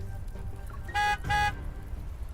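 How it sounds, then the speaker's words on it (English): Two urgent blasts of a delivery truck's horn in the video game Love and Deepspace, each about a third of a second long, loud and close over a low background rumble. "Amid urgent honking, Philo's delivery truck bursts through the barrier"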